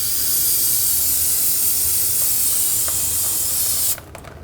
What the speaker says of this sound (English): just clean this up with a little brake parts cleaner.